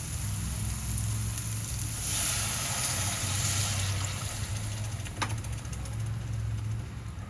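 Hissing, rushing sizzle as water hits hot masala for a Bombay duck (bombil) curry, swelling briefly then easing to a steady bubbling hiss, with a low hum underneath.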